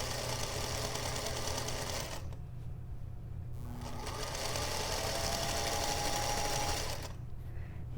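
Sewing machine stitching a quilt panel seam, a steady close whirring drone that runs almost unbroken and pauses briefly twice, with no voices.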